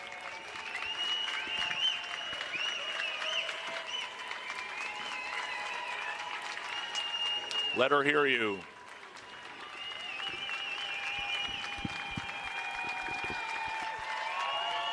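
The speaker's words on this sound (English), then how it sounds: "let's really start whooping it up for her" Cheering and applause from a swimming crowd at a women's 500 freestyle heat, Spring Nationals in San Antonio, a steady wash of noise under a loud announcer's voice urging them on.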